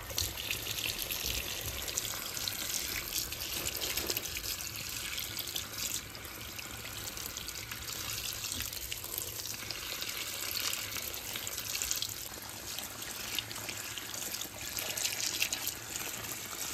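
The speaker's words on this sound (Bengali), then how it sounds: "শাকগুলি একটু ভিজিয়ে রাখলাম।" Tap water runs steadily over fresh leafy greens left to soak, making a continuous gushing, splashing stream at moderate distance with no talk.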